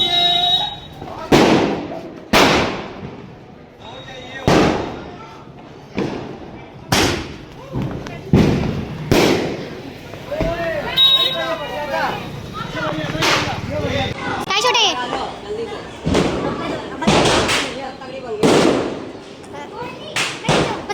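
Firecrackers bursting during Diwali celebrations, a string of sharp close bangs spaced a second or two apart, with people chattering and shouting between and over them.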